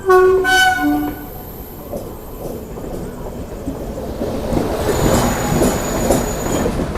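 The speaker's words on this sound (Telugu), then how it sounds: "సో గోదావరి ఎక్స్ప్రెస్ అయితే మనకైతే లోకోమోటివ్ అయితే వస్తుంది." Godavari Express train arrives, opening with a loud blaring locomotive horn, then a steady rumble of the train rolling past with rail clatter and faint squeals.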